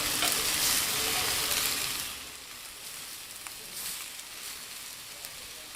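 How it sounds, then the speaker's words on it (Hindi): Rohu fish pieces sizzle and fry in a pan, a loud crackling hiss that is strongest at first and then settles into a quieter, steady spatter with small pops. "इस तरह फिश के पीसेस को दोनों तरफ से ग्रिल कर लेंगे।"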